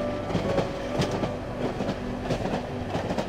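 A metro train in the video game Cry of Fear rumbles steadily with a rhythmic clickety-clack of wheels on rails, continuous and fairly loud, with no voices.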